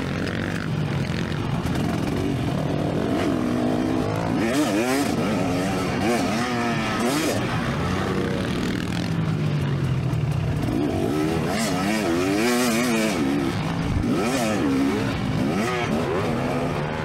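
2024 KTM 300sx two-stroke dirt bike ridden at Albany MX Park, its engine loud and close, revving up and down in rising and falling sweeps continuously throughout.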